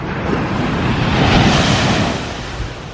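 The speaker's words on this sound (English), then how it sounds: "There's the ocean." Ocean surf breaks and rushes onto a beach in a steady, loud wash of waves, swelling in the middle and easing toward the end, with wind across the microphone.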